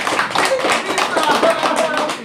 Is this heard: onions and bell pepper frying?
no